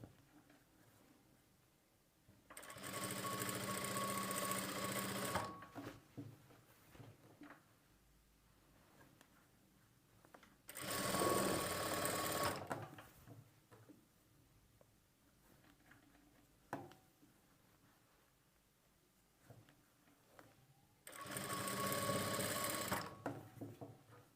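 A sewing machine stitching piping onto a plain blouse runs in three steady, whirring bursts of several seconds each, close and clear, with quiet pauses and faint handling noises between runs.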